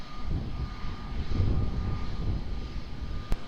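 An airplane taking off from runway 20 at Lisbon Airport, engines producing a continuous heavy rumble with a faint steady whine, fairly loud and unaccompanied by speech.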